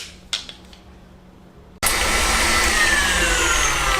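An electric mixer beats butter and sugar in a mixing bowl. It starts abruptly after a few faint clicks and runs as a loud, steady whirring drone to the end.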